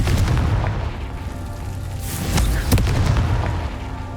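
A Confringo explosion spell in the video game Hogwarts Legacy detonates with a deep, rumbling boom and sharp blasts over a dense, continuous game soundscape.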